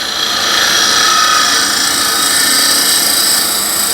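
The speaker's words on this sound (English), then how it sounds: "You always have to finish the bottom with the scraper tilted down." Steady, bright scraping hiss from a scraper finishing the bottom of a hollow vessel on a wood lathe, tool tilted down, running continuously and close without pause or talk.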